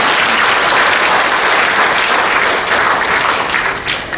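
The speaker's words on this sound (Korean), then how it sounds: "우리 모두를 위한 환영의 박수 전해드리면 어떨까요?" A seminar audience in the Seoul Press Center conference hall gives loud, sustained welcoming applause, a thick continuous roar of many hands that eases off only slightly at the very end.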